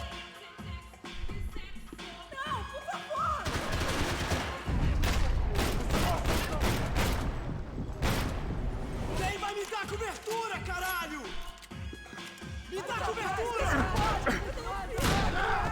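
Repeated gunfire in Max Payne 3, with loud bursts of shots and impacts in the middle of a busy action scene, mixed with music and someone talking throughout.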